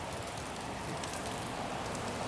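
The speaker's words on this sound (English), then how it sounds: "Now it's gonna rain much harder." Steady rain pours down in Old San Juan, Puerto Rico, a dense, even hiss of drops hitting streets and surfaces, close and continuous without letup.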